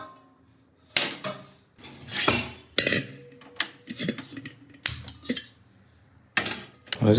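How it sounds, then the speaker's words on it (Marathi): A kadhai and a large cooking pot are lifted and set down in a home kitchen at night, making several sharp metallic clanks and scrapes spread irregularly, with quiet voices between. "ती कढई उचल आणि याच्यावर ठेव आणि मोठा टोप ठेव याच्यावर ठेवून मोठा टोप"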